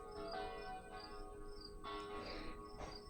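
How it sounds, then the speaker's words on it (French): Church bells ring faintly and far off, several struck tones blooming and fading with lingering hum between strikes, over a quiet background. "Je vais prendre une mini-pause pour écouter les cloches de l'église."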